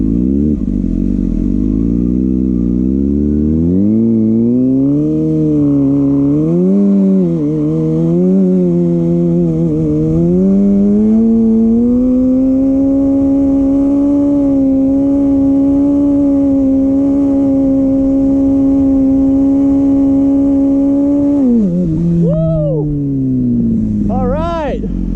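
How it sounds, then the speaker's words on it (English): A Kawasaki ZX6R motorcycle doing a rolling burnout: a loud, close engine revs up through rising pitches, then holds a high, steady scream for roughly fifteen seconds before dropping off sharply near the end. "That was my first ever rolling burnout"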